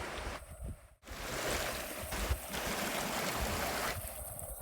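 A small, deep mountain creek beside Tioga Pass Road, Highway 120, in the Eastern Sierras near Yosemite at about 8,500 feet, rushes in a steady close wash with a few brief dips.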